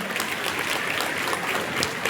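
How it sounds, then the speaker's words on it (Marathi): An audience at a felicitation ceremony for meritorious students, honouring a local MLA, breaks into loud, continuous applause, a thick wash of many hands clapping at once. "एकदा श्री महेंद्र सदाशिवजी थोरवे साहेब, आमदार कर्जत खालापूर विधानसभा साहेबांसाठी जोरात टाळ्या वाजवा"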